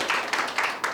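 Audience clapping at a university talk concert in Korea, a brief burst of applause from a crowd, moderately loud with no talk.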